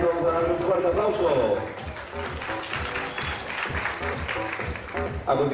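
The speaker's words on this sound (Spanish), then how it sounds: "Vamos a darle un fuerte aplauso" A crowd gives loud, sustained applause at a Colombian national interclub beauty contest for athletes, with dense clapping filling the whole stretch and a voice talking over it.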